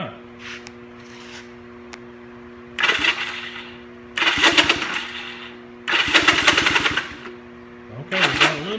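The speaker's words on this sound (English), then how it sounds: "So hopefully we can get a little bit of action with the starter." A starter cranks a freed-up, previously stuck Honda Rebel motorcycle engine in four rough, grinding bursts of a second or so each, separated by pauses, against a steady background hum.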